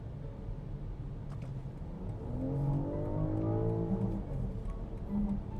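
A BMW X6 in Sport Plus mode accelerating on an Egyptian road, its engine note climbing steadily in pitch and swelling in loudness, heard from inside the car.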